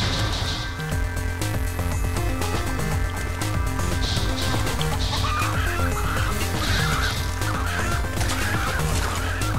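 Rooster clucking in the video game Call of Duty Black Ops: a loud, repeated run of clucks and squawks over a busy game soundtrack with steady music underneath.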